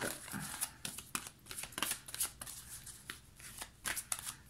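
Tarot-style cards being drawn and shuffled in a reading, giving a run of soft papery riffles and flicks in irregular bursts, close and fairly quiet, with no talk over them.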